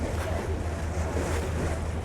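Ocean waves splash and churn near Benagil cave on the Algarve coast, a steady loud wash of surf with rumbling low water and wind buffeting the microphone, no clear talk.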